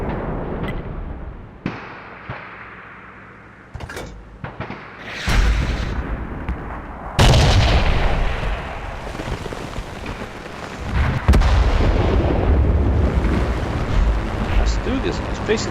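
Tank cannon shots in World of Tanks, a StuG firing amid battle; several loud booming blasts with sharp onsets stand out over continuous rumbling game noise, with a lull early on before heavy, sustained explosions fill the latter part.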